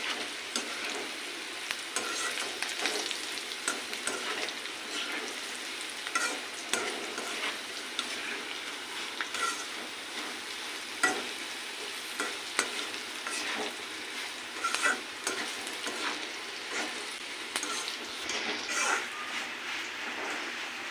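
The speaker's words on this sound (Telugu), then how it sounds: "ఇంకా వేగాలి ఇవి. చూడండి ఫ్రెండ్స్, ఇలా వేగిపోయాయి. ఇలా వేగాలి బాగా ఇవి." Food sizzling steadily in a hot pan while being stirred, a continuous close crackling hiss with occasional scraping and clinking of the spoon against the pan, no voices over it.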